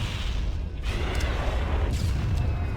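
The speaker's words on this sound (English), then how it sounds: "blow up the Wraith with the rocket launcher" Rocket launcher blasts hitting a Wraith tank in Halo: Combat Evolved, a steady low rumble of explosions and game noise with a couple of sharper bursts, fairly continuous and moderately loud.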